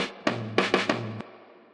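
A short funk drum fill sample, heavily crushed: four punchy hits with a snare-like crack over a low sustained tone, then a quick decay into a spring reverb tail.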